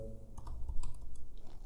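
Rapid typing on a computer keyboard as an email address is entered, with quick, close key clicks in an irregular stream over a low background hum.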